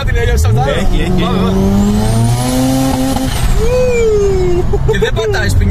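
A Mazda RX-7 FD engine revs up hard and climbs in pitch as tires briefly chirp and spin, loud and close, with voices talking excitedly over it.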